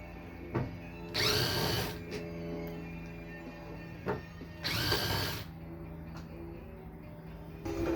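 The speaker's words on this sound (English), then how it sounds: "Now I'm going to hit them with the drill and take the hood off all by myself." A power drill loosening hood bolts on a Jeep Wrangler JK whirs in two short bursts a few seconds apart, with clicks and mechanical handling noises in between.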